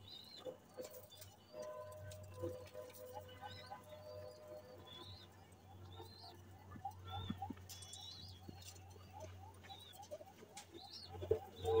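Pigeons on a home rooftop in the late afternoon give soft, repeated coos and bird calls at a moderate distance, with a steady low hum running underneath.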